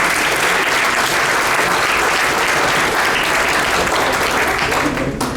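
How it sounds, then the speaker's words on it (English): A meeting audience gives a real-estate expert panel a loud, close round of applause, a dense, unbroken wash of many hands that tapers slightly at the very end. "give them a round of applause"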